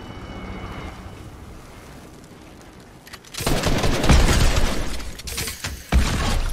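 Rapid bursts of automatic gunfire crack loudly and close in a Fortnite match. The shooting starts suddenly after a few quiet seconds and keeps going in dense volleys, with one sharp burst near the end.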